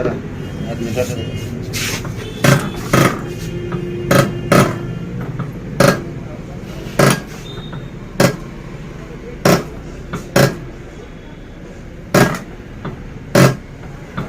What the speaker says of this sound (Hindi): आप नोजल का साउंड सुन सकते